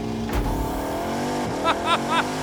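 A race car leaves the pit lane once its 40 mph pit speed limiter is switched off, its engine roaring loudly at close range, with rapid upshifts and rising revs.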